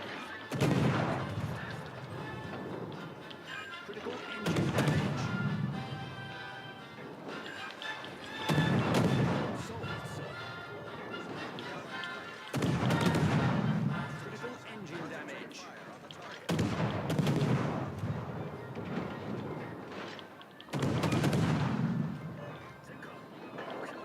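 Naval gunfire in the World of Warships: Legends video game, heavy booming salvos recurring about every four seconds, each with a long rumbling tail, close and loud throughout.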